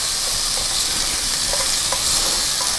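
Boiled ivy gourd stir-fried in a pan gives a dense, continuous sizzle, with faint scraping taps of stirring scattered across it.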